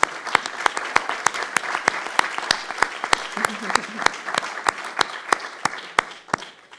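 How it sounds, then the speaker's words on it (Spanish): Applause at a heritage community gathering, a small group clapping in a clear regular rhythm with distinct close claps, a few voices murmuring underneath. "Un aplauso para esa gente,"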